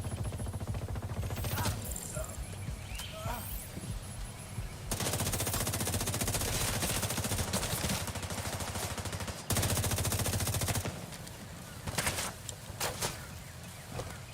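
Gunfire from the video game The Division 2, with dense automatic bursts of rapid, loud shots in several long stretches and short pauses between them.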